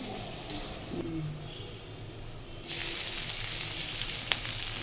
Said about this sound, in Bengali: আদা আর রসুন এগুলো একটু ফ্রাই করে নেব